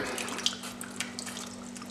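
Apple cider vinegar poured into a barbecue sauce mix, giving a quiet, steady liquid trickle with a faint drip-like tick or two over a low background hum.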